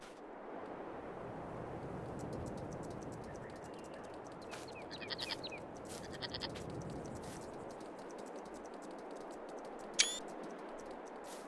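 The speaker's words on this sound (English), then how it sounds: "Oh, I heard a little lamb." A few soft sheep bleats in Farming Simulator 22 come from a distance, two short calls over a rushing, breezy outdoor background, with one sharp chirp near the end.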